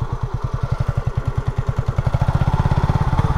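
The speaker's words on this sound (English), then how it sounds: "I'm just going to slide the bike out of the way in case someone comes around the corner." A Honda CB250RS motorcycle idles close by as it is slid out of the way, its single engine thumping in a steady, even rhythm with no talk.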